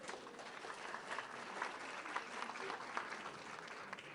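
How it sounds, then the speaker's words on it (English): An audience at a lecture on forensic science and the paranormal gives a round of applause, a steady patter of many hands heard at a distance, fairly soft and even. "Could we have a round of applause?"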